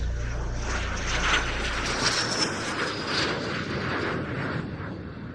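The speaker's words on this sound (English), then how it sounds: "And here we have just such a pilot at the controls of the Saab SK-60 from the Swedish Air Force, Captain Nils Schillström." Swedish Air Force Saab SK-60 jet performing at an air show, a steady, loud broadband roar of engine noise that holds throughout with slight swells, heard alone.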